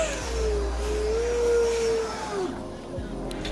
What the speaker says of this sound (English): The L-39 passes here as well.